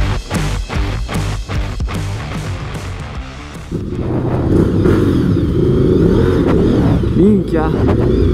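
A Honda VTR SP1 motorcycle engine surges up and roars steadily while riding, loud and close, after a few seconds of sharp, choppy bursts at the start.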